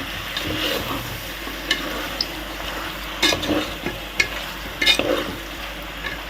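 Chicken curry being stirred in a pan: a steady sizzle of frying under scattered scraping strokes of a spoon, several sharper clicks standing out, close and moderately loud with no talking.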